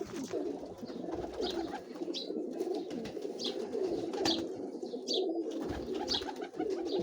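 Steady low cooing from a Ferozpuri pigeon carries on throughout at close range, with occasional short higher chirps from other birds in the background.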